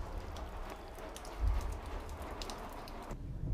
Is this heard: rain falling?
yes